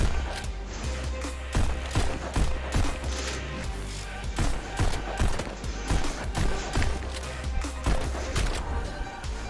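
Rapid, repeated gunshots from the VR shooting game Pistol Whip crack out in a near-steady rhythm over a loud, driving music bed, the shots closely spaced with no speech.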